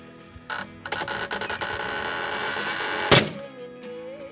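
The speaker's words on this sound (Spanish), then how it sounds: "Y ahí escucharon cómo aflojó, ¿eh? Acá está mi neumática regular. Con eso aflojó." A regular pneumatic impact wrench hammering at a stuck, tight sprocket nut on a Kawasaki Versys 650 motorcycle during a chain and sprocket kit change, a loud close rattling burst of about three seconds with a sharp crack as the nut breaks free.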